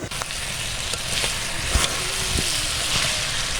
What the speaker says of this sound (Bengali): এবার ভালোভাবে নেড়ে চেড়ে ঝোল দিয়ে দেবে